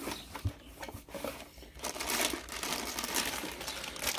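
A 3.5 kW Type 2 EV charger is unpacked from a small plastic bag, giving close, irregular crinkling and rustling that grows busier and louder toward the end.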